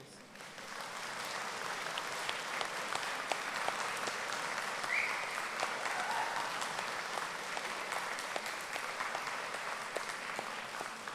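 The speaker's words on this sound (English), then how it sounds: "give them an enormous round of applause" A large graduation audience at Bath Spa applauds their supporters in a long, sustained wash of clapping, steady and broad for over ten seconds, with no speech on top.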